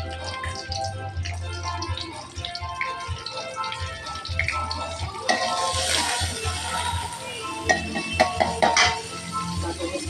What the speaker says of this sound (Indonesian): Kita tumis bawang bombaynya dulu.